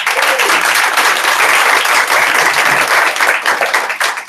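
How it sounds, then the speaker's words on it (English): A sales meeting audience breaks into loud, dense applause, a steady wash of many hands clapping close by that holds strong for about four seconds with little variation. "So give them all a big round of applause."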